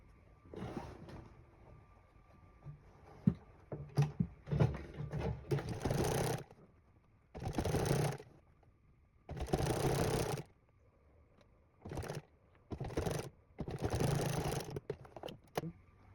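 A sewing machine stitches down a garment collar in a series of short bursts of whirring, separated by quiet pauses as the fabric is repositioned, close and clear.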